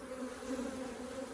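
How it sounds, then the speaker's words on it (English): Close, steady buzz of many honeybees during a Flow Hive inspection, a brief continuous drone with no talking. "Lots of bees, lots of eggs, larvae, brood in all stages."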